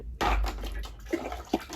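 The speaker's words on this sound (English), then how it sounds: "after I add more water" Water poured into a homemade liquid soap mixture: a brief, close splashing gush that settles into softer trickling and sloshing, without talk.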